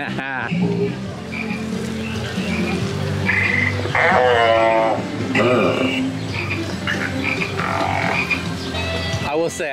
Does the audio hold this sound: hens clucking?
no